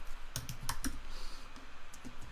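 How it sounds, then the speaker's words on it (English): Keys on a computer keyboard are tapped in a quick irregular burst of close clicks, then a few sparser, softer keystrokes follow over quiet room noise. "Oh, I am not doing a good job of typing tonight at all"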